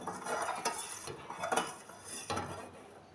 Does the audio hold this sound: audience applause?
no